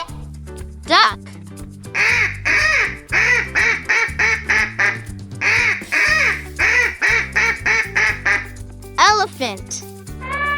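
A duck quacks over and over in quick, loud bursts grouped into two runs above a bouncy musical backing, with short chirpy effects at the start and end.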